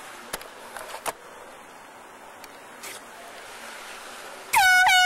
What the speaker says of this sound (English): Alright, air horns ready.